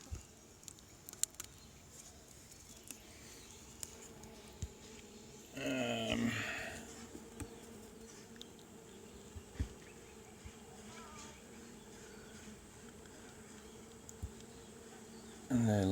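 A captured honeybee swarm buzzing around its hive, a faint, steady insect drone close by with scattered bees passing the microphone and a few brief louder bursts.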